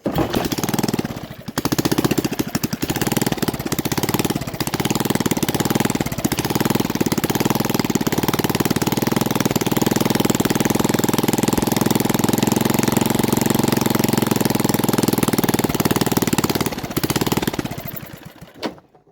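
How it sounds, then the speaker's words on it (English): Westwood Lawn Bug ride-on mower engine runs, a loud, rough, rapidly pulsing small-engine rattle close by that holds steady for most of the time before cutting out near the end. "we know the engine runs, isn't that good?"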